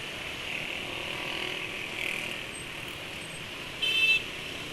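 Road traffic noise with motorbikes and cars passing, a steady broad rumble and hiss near a scooter, with a short horn toot near the end.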